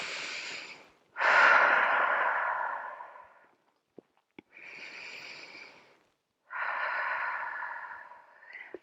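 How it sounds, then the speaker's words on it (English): Several deep, loud breaths taken during a floor yoga session, each long airy inhale or exhale separated by short pauses, with a couple of faint clicks between them and no talking. "Take a few nice big breaths."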